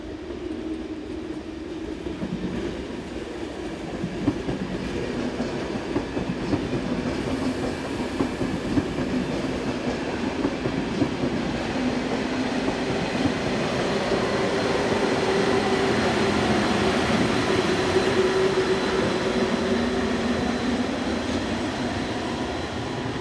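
Austrian ÖBB class 1144 electric locomotive in cream and red livery hauling a passenger train as it departs on the Semmering Pass route: a steady rumble and rolling wheel noise with clickety-clack, holding at an even level throughout with no speech.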